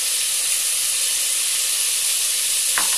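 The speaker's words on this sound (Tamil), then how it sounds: "ஆனியனை நல்லா வதக்கிட்டு அதுக்கு அப்புறமா இஞ்சி பூண்டு பேஸ்டா சேக்கலாம்" Onions sauté with ginger garlic paste in a pan for chicken biryani, giving a steady close hiss and sizzle that runs unbroken throughout, with no talking.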